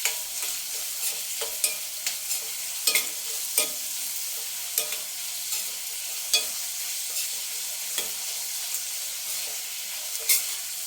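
Onions sautéing in oil in a pan for egg rice give a loud continuous sizzle, broken by repeated scraping strokes and taps of a spatula stirring them, close up and without talk.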